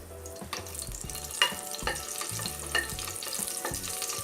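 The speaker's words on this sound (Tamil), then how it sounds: "எண்ணெய் சூடானதும் அது கூட ஒரு பட்டை, ஒரு ஏலக்காய், 3 லவங்கம் சேர்த்துடலாம்." Cinnamon, cardamom, cloves and a green chili fry in hot oil for mutton kulambu, making a crackling sizzle broken by frequent sharp clicks and scrapes of a spoon against the pan, close and moderately quiet, with no talking.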